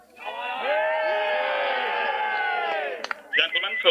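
Spectators at a Belvoir Castle jousting tournament let out a long sustained cheer and shout for nearly three seconds, followed by scattered whoops and voices as it breaks up.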